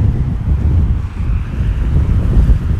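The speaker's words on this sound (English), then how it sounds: "And the wind is picking up." Strong wind buffeting a microphone on a footbridge, a loud, continuous low roar and rumble filling the whole stretch without a break.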